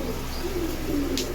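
Silver pigeons coo softly and briefly, a low, warbling call close at hand over a faint, steady background.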